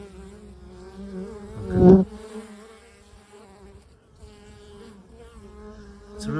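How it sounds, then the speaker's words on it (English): A steady insect buzz hums throughout from bees inside a Warre hive in winter, many wings droning together at close range, with a brief louder rustle near the middle and a single short spoken word. "It's really satisfying to hear that the bees are okay"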